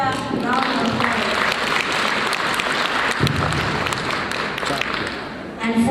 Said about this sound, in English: we can give a better round of applause